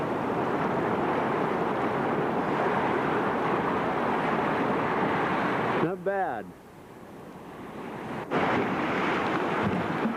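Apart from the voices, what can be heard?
white water rapids on a river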